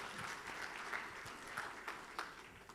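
Church congregation applauding after a call for a round of applause during a Sunday morning service, with a steady wash of clapping and a few louder claps standing out, filling the room and carrying on without speech.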